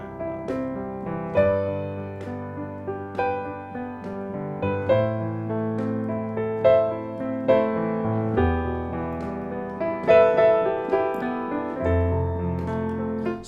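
Piano with a left-hand accompaniment in steady triplet figures, low repeating bass patterns under sustained chords and a melody line, played evenly and moderately loud throughout with no talking.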